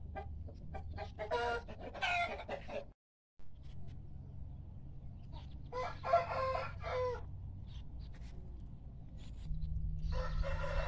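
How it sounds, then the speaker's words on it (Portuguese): Chickens cluck and a rooster crows in a garden, several bursts of fowl calls rising over a steady outdoor background, with brief pauses between the calls and a louder low rumble near the end. "Vocês estão assombrando as galinhas."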